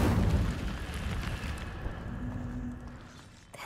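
A fiery burst from the Incendio fire spell in the video game Hogwarts Legacy: a loud whooshing blast at the start that rumbles and slowly fades over a few seconds.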